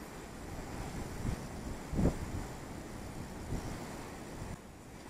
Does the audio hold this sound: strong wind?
yes